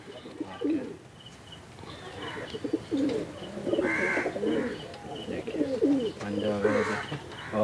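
Madrasi pigeons of the Chennai breed coo steadily in a loft, their overlapping low throaty calls filling the space, with a few higher chirps and someone talking briefly among them.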